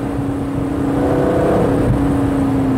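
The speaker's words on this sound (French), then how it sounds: "Et là, j'accélère pied dedans." Aston Martin Vantage Roadster engine pulling under full throttle, a steady smooth drone with a rising harmonic tone, heard continuously from inside the car with no talk.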